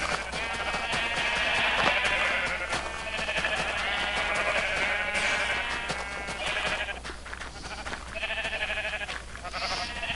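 Sheep in a Minecraft barn bleat repeatedly, several overlapping calls in short bursts, loud and close.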